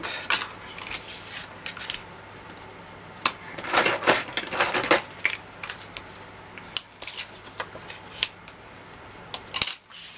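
Scrapbook paper for a Simple Stories Winter Woods album is folded and its creases pressed down, giving sharp crinkling crackles and scraping rubs in scattered close bursts, with a loud cluster in the middle and quieter gaps between.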